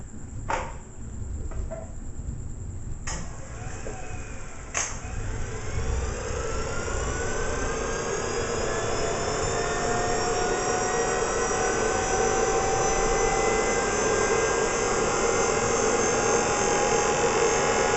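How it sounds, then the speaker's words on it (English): An electric motor run at setting 24 spins up with a rising whine after a few clicks, then settles into a loud, steady high-pitched hum with a buzzing rattle underneath. "I'll play around a little bit with the motor. I'm going to run it at 24 and see what happens."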